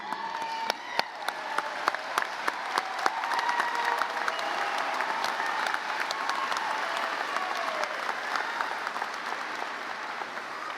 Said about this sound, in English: Please recognize these students as they stand with your applause.